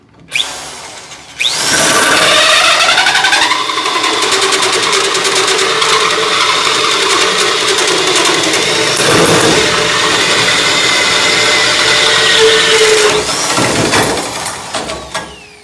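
A power drill with a hole saw bores a 2.5-inch hole through aluminum boat stock, a loud continuous whining grind with metallic ringing that runs steadily for over ten seconds before winding down.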